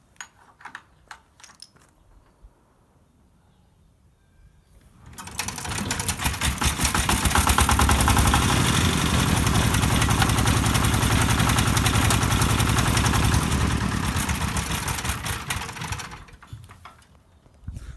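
A Chinese walk-behind tractor's engine is started after a hard-starting fault was fixed: a few faint clicks, then the motor catches around five seconds in and runs at a loud, steady idle for about eleven seconds before cutting off.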